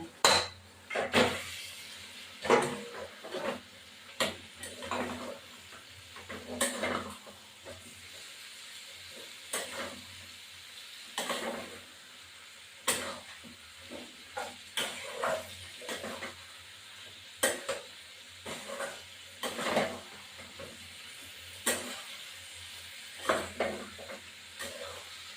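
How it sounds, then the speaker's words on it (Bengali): Jackfruit, potato and prawns stir-fried in spices in a pan, with repeated loud scraping and clanking of a spatula against metal in an irregular rhythm over a low background sizzle, close and without talk. "ইঁচড়, আলু, চিংড়ি মাছ এমন দিয়ে দিচ্ছি মশলার মধ্যে কষাবো।"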